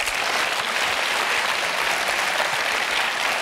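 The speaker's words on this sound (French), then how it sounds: "Ça mérite qu'on l'applaudisse." Steady, loud studio audience applause on a French talk show, a continuous dense roar of clapping throughout with no break.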